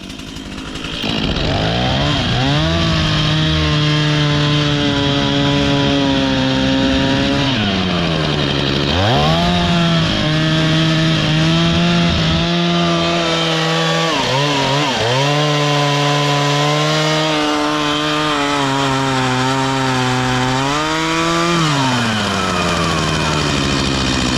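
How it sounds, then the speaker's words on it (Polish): An old chainsaw engine runs loud and close, its buzzing pitch repeatedly surging up and dropping back as the throttle is blipped, continuous throughout. "odpal starą piłę. Odpalimy, ale za chwilę"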